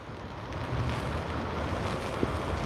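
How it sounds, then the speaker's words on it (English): Strong wind from Tropical Storm Fay roars across New York harbor, buffeting the microphone in a dense, steady rumble with churning water beneath it and no clear voices. "Yeah, it's very windy, guys."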